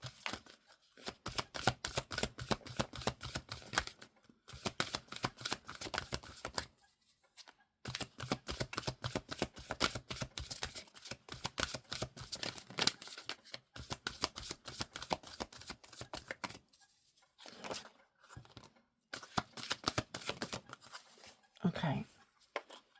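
Tarot cards are shuffled in repeated dense bursts of crisp riffling, each lasting a few seconds and broken by brief pauses, close and fairly quiet, with a little talking near the end.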